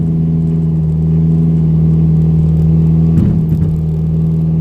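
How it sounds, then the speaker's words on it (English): Car engine held at full throttle against the brake during an automatic transmission stall/pressure test, a loud steady low droning roar with a brief wobble near the end. "hold foot on the brake, and we're going to pretty much give it gas until you can't give it anymore"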